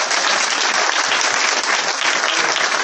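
A church congregation applauding loudly in acclaim of Jesus, with continuous dense clapping from many hands filling the room at a steady level and no speech over it.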